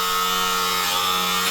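A power tool cuts through the emergency brake on an AMC Pacer, a steady high grinding whine close by, sustained and even for the whole moment.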